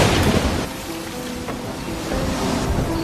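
A storm with rain and thunder as floodwater pours over a dam site, a steady broad wash of rain and rushing water with low rumbles underneath, loud and continuous throughout.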